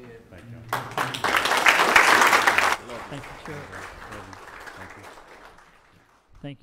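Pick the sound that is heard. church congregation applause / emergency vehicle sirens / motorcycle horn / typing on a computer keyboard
church congregation applause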